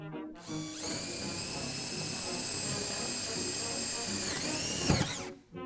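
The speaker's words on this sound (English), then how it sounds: "Now that we've drilled a hole, we're gonna put the jigsaw blade in that hole." A power drill bores a hole in material for a hovercraft build, its steady high-pitched whine running nearly five seconds close up before a brief thump and spin-down; no talk over it.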